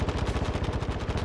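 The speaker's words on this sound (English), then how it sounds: "That's AI shooting at me from over here." Rapid automatic gunfire from AI enemies in the Call of Duty DMZ game, a dense, steady stream of loud shots in quick rhythm with no pauses.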